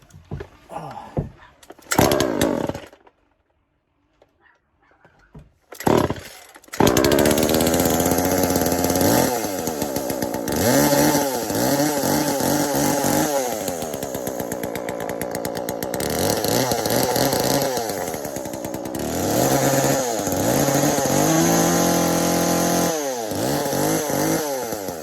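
A Poulan Pro 42cc chainsaw with a sprocket-nose bar is cold started after sitting unused on a porch: several short pull-cord attempts and brief sputters give way to a loud, close engine that idles and revs repeatedly for about twenty seconds.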